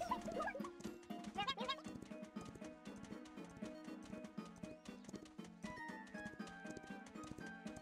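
Rhythmic hoof clip-clop from a horse trotting in the game Miitopia, steady and close, over a busy game music bed with bright chimes and tones.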